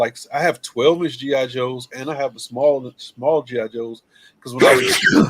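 One sharp sneeze breaks in near the end of a man's casual chat, loud and close to the microphone, right after his steady talking.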